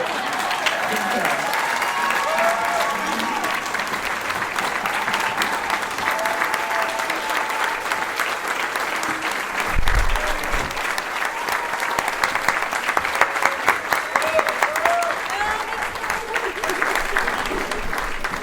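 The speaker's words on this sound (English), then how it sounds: "Now we can applaud and celebrate." An audience at a community awards ceremony breaks into steady, sustained applause that fills the room for the whole stretch, with a few voices and cheers rising within it.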